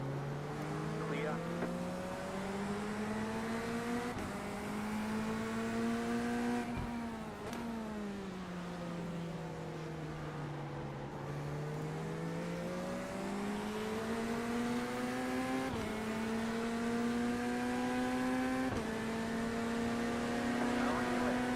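Race cars circle the track at Daytona during an IMSA race, their engines droning loudly and continuously, pitch rising and falling as they speed up and slow, with radio spotter speech over the roar.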